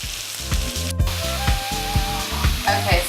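Shallots and onions sizzle and fry in a hot pan for chicken marsala, a steady crackling hiss broken by soft rhythmic stirring thumps, close and fairly loud.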